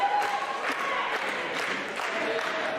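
Wrestling crowd at an RCW Blast show clapping and cheering in a steady, dense roar, with scattered shouts and voices mixed in throughout.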